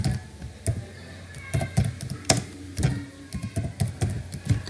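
Rapid keystrokes on a computer keyboard, typed in irregular bursts of clicks. The taps are close and fairly loud, with no talk over them.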